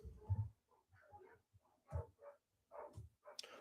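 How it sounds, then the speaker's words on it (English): Several dogs bark outdoors in short, irregular bursts, some near and some farther off, with a few whimpering yips between them. "my dogs are going absolutely insane right now"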